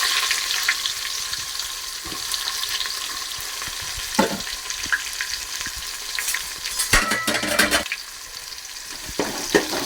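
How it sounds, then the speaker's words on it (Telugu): Garlic and onions fry in a pan for an Indian halibut fish curry, giving a steady, close sizzle with occasional louder spatters and stirring scrapes and no voices. "దోరగా వేసుకోవాలి, ఇవి మాడకూడదు."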